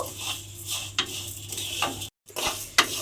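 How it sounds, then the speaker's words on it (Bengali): Flattened rice (chira) stirred and dry-fried in a pan for a crispy snack, with repeated scraping strokes of a spatula, a soft sizzle and occasional sharp clinks against the pan. "এইভাবে আমি একটু সময় নিয়ে চিড়েটাকে নেড়ে নেড়ে ভালোভাবে ভেজে নেব।"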